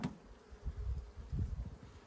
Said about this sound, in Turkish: Altta da arı çok yoğun değil bak.